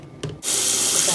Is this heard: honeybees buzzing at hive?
no